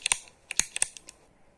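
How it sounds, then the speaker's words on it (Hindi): A ballpoint pen clicked repeatedly, giving a string of sharp, close, dry clicks in uneven bursts that fade out toward the end, with no voices. "ठीक है, चलो पेन क्लिकिंग की है।"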